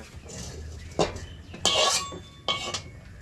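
Several metallic clanks and clinks of cookware as a pan is set down and shifted on a stovetop, in separate bursts, before water is added.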